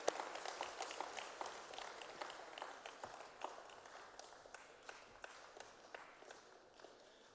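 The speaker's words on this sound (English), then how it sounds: "A round of applause for the Premier of the province." Audience at a National Senior Certificate results announcement applauding the provincial Premier, fairly faint clapping heard from a distance with distinct individual claps, gradually fading over about seven seconds.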